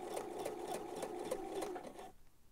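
Sewing machine stitching fabric for men's boxers, a steady rapid needle chatter with regular pulses for about two seconds, close and clear, then stopping abruptly into near silence.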